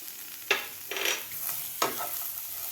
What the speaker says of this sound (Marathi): असं व्यवस्थित आपल्याला हे हलवून घ्यायचं आहे